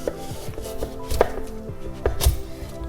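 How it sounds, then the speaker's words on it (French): A peeled beetroot is cut in half with a knife on a cutting board, giving several close, firm chopping thuds and knocks with short gaps between them. No one talks. "Vous allez venir en récupérer une qu'on va couper en deux."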